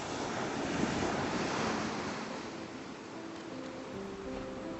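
Ocean surf washes steadily onto the shore at Iona, a continuous loud rush of breaking waves with wind buffeting the microphone throughout.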